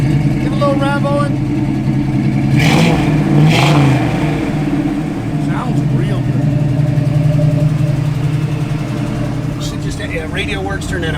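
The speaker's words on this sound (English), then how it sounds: "Give a little rev on." A 1969 Chevrolet Camaro engine idles with a low rumble and gets a couple of brief throttle blips, loud and near, while people talk over it.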